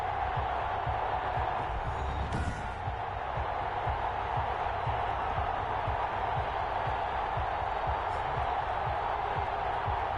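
An NFL stadium crowd roars before a Dallas Cowboys game, a steady, dense wall of distant cheering and murmur with a brief swell near the start.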